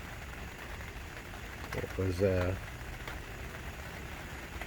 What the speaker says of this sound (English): Now I'm going to be quiet and just listen to the rain and the thunder for a little while.